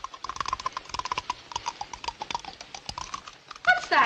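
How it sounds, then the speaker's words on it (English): Rapid, irregular clacking of typewriter keys in a 1940s horror-comedy scene set in a mock morgue, steady and close for several seconds, ending in a brief burst of brighter rattling. "Like typewriter keys."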